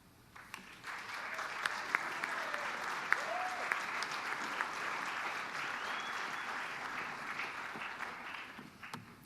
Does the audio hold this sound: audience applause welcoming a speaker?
yes